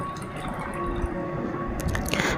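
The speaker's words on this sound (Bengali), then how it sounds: "এরপর এখানে দুধ আর দইয়ের মিশ্রণটা ঢেলে দিচ্ছি এবং এখানে ঢেলে দিচ্ছি বাকি দুধটা" Milk and curd mixture poured into a large bowl for homemade sweet curd, a steady close liquid pour with soft dripping and splashing throughout, no voices.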